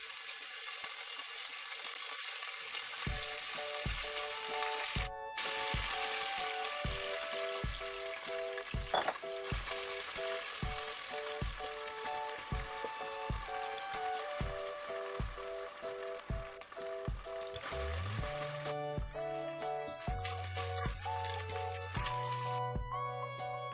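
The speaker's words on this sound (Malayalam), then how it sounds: "ഇനി ഇതിലേക്ക് മാരിനേറ്റ് ചെയ്ത് വെച്ചിട്ടുള്ള ചിക്കൻ്റെ പീസസ് ഇട്ടിട്ട് ഫ്രൈ ചെയ്തെടുക്കാം" Marinated chicken pieces fry in hot sunflower oil, a loud, steady bubbling sizzle with crackles that carries on unbroken, with occasional clinks and scraping stirs from a utensil against the pan.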